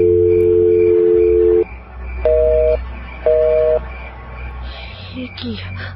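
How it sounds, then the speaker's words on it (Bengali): A phone call tone for a switched-off number: a long steady beep, then two shorter two-tone beeps, loud and clear, ending in rustling handling noise. "কি ফোন বন্ধ বলছে কেন?"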